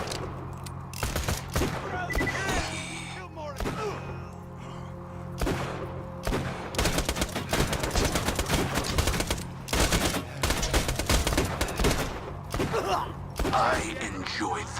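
Gunfire in Borderlands 2 VR comes in sharp, loud bursts and rapid volleys, separated by quieter gaps with mechanical clicks and game effects, close and punchy.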